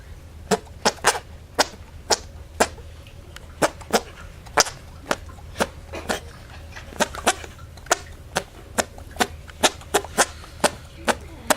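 Someone makes arm farts to play the Happy Birthday tune: a long series of short, sharp, squelchy pops in a steady melodic rhythm, close and fairly loud, with no talk over them.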